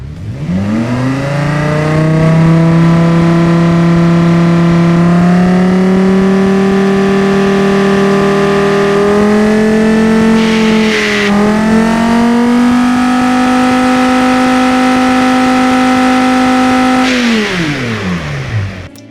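A 90-degree V engine in the Automation driving game revs hard at high RPM, its loud, harmonically rich howl climbing and holding steady, dipping briefly, then surging again before falling away as the throttle closes.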